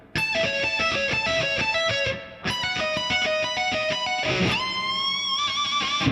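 A heavily distorted electric guitar riff slides up a half step, with dense, sustained, loud chugging and a brief dip before resuming, no talking.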